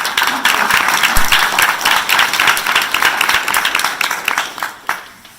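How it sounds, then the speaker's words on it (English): An audience at a parents meeting gives a round of applause, loud and steady clapping from many people in a room that fades out over about five seconds. "Let's give these guys a round of applause."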